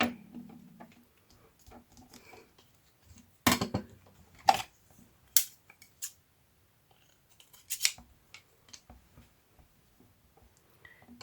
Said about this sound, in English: I should have got my bigger scissors for this, but yeah, this will work too.